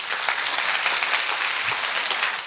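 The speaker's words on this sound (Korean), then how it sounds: "공감하면 박수 한번 쳐볼까?" Students in a lecture hall break into steady, dense clapping that holds evenly at moderate loudness for a couple of seconds, with no talking over it.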